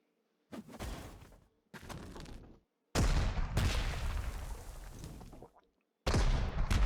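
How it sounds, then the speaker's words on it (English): Artillery strikes in the World War II strategy game Panzer Corps 2, a run of heavy booming blasts with rumbling tails, separated by brief silences, loud and close. "Nice, 2 artillery strikes."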